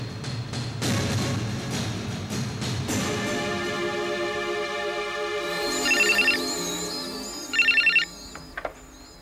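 Telephone ringing in a Hindi suspense TV drama: a scene's music and low sounds fade, then an electronic phone ringtone trills in two clear bursts, fairly loud, with a short click at the end.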